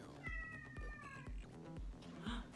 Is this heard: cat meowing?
yes